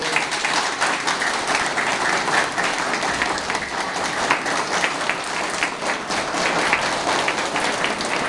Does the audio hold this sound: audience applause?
yes